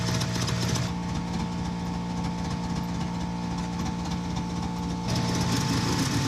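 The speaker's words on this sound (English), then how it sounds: "as soon as you unplug them green clips, it should idle a little bit better." A Subaru EA82 car engine idles with a steady low rumble and harmonic drone, loud and close, its tone shifting slightly near the end.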